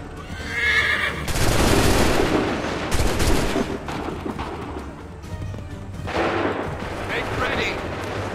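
Musket volleys crack out in an Assassin's Creed III battle, several loud broadband bursts landing in clusters amid a dense din, with horses whinnying and shouted commands mixed in.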